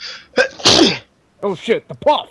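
One sharp, loud sneeze bursts out near the microphone, followed by several people talking around a tabletop role-playing game.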